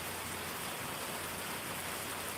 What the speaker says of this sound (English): it's kind of relaxing, listening to the rain